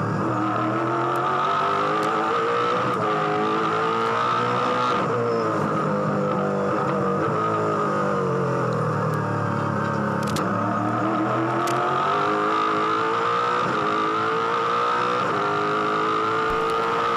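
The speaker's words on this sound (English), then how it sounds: "Good to have a look and a listen here at the rhythm of this car." A Ford Supercar races at Bathurst during the 2005 Bathurst 1000, its engine note rising and falling through gear changes and revs, loud and continuous with a few sharp crackles.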